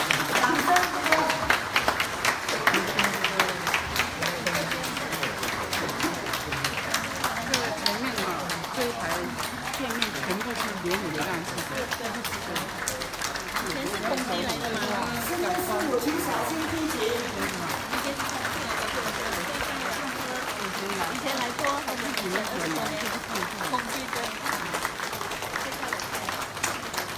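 An audience at a temple consecration ceremony keeps up sustained, loud applause for nearly half a minute, a dense, steady wash of clapping from many hands, with voices mixed into the crowd noise.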